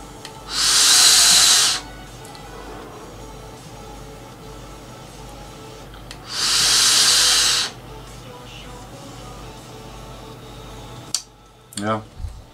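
Someone takes two long drags on an e-cigarette filled with Riccardo flavour liquid, each producing a loud, even hissing whoosh lasting about a second or two, several seconds apart, followed by a few short clicks and taps.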